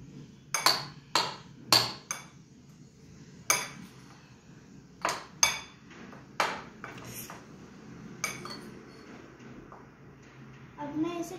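A spoon clinks sharply against a bowl while potato chaat with coriander is mixed, giving about a dozen bright, uneven taps over a soft background.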